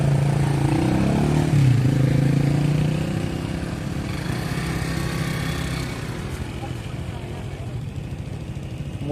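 Motorcycles passing on the Alaminos–San Pablo by-pass road in the Philippines, a steady loud engine drone with a rising pass early on, then continuing road noise; speech is faintly mixed in.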